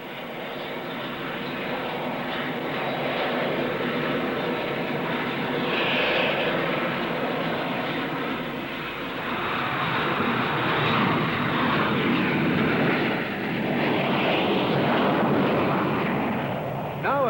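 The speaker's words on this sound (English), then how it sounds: "A gentle spot landing makes a fitting climax to this convincing demonstration of the VTOL fighter." A VTOL jet fighter makes a spot landing at the Farnborough air show, its engines roaring loud and steady for the whole stretch, swelling and easing slightly as it settles.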